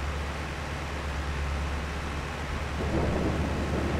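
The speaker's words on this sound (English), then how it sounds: "it's going to be raining all the way until the afternoon hours" Rain and thunder in a farming simulator game: a constant hiss of rainfall over a deep rolling rumble that swells louder toward the end.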